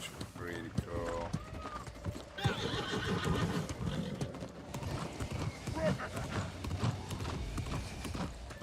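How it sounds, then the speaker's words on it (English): A horse gallops in the fantasy game New World, its hooves clip-clopping steadily alongside whinnies and neighs over a dense layer of game music and ambience, with no talk. "get on my horse and push through it"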